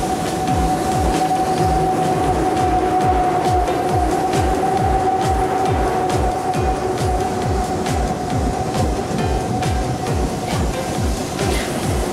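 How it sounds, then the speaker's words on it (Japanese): Near and loud, the Hakusan limited express rolls into Yokokawa station, its wheels beating a fast, steady clickety-clack over rail joints under a sustained mechanical whine and rumble. There is no speech. "ちょうど上りの特急白山号が到着するところです。"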